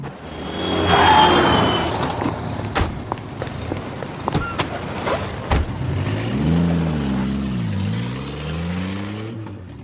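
A taxi cab driving along, its engine rising and falling with a vehicle-like whoosh and intermittent sharp clunks, close and fairly loud, with no talk.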